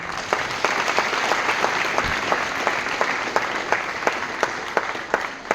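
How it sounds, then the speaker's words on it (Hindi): Loud, steady audience applause fills a stand-up comedy show about corporate and HR jokes, dense clapping with sharp individual claps cutting through, sustained with no voices. "तो जो लोग 25 के ऊपर वाले, उनके लिए एक बार जोरदार तालियां हो जाए"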